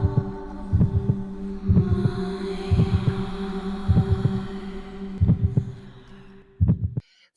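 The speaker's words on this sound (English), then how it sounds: "you can hear like a heartbeat" A muffled heartbeat thumps in steady double beats under a sustained hum in a song, about seven beats in a slow regular pulse before fading out.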